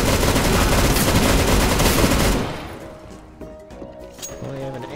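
AK rifle gunfire in the video game CS:GO, a dense, loud burst of rapid automatic shots that cuts off halfway, followed by quieter game sounds and some voices.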